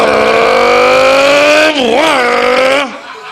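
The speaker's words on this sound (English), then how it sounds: "Sound of engines." Car engines rev hard and loud up close, one rising, sustained roar with a sharp pitch dip and recovery near the end before it cuts back and fades.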